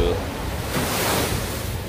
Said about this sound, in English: Nice little splash.